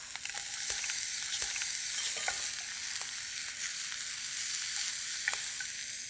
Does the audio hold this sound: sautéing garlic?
yes